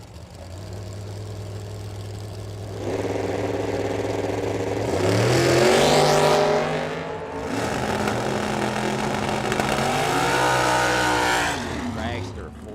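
A Racecraft chassis dragster at a drag strip idles and revs repeatedly, its engine swelling to loud, rising blasts and dropping back in a lumpy rhythm, close and powerful, with a voice talking over it.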